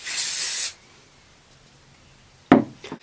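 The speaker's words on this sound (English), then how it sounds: "And then hairspray again." A can of hairspray gives one short, loud, close hiss lasting well under a second, followed by quiet and then a brief knock and rustle of handling.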